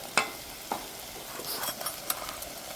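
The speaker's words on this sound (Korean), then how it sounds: "자, 타지 않게 볶아주세요" Food for kimchi stew stir-fries in a hot pan with a soft continuous hiss, punctuated by occasional scraping clicks from stirring.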